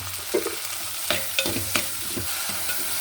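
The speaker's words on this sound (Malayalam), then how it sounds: "ഉള്ളി ഒക്കെ വഴന്ന് വന്നിട്ടുണ്ട്" Chopped onions, shallots, green chilies and garlic fry in a pan, a soft continuous sizzle broken by a few light scrapes and taps of a spoon stirring, close and without voices.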